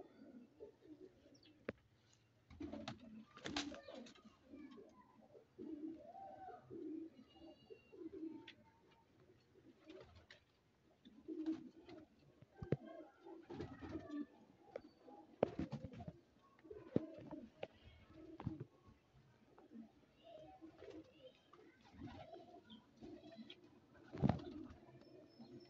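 Pigeons coo softly and repeatedly at close range, their low throaty calls mixed with scattered flutters and small knocks in a quiet setting.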